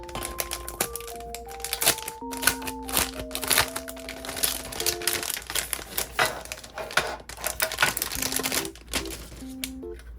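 Packaging for a Daiso tin case set crinkles and tears as it is unwrapped, close and continuous, over light background music.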